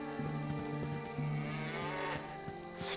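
A cow in the Baldur's Gate video game gives a clear, drawn-out moo that stands alone over soft ambient game sound, with no talking.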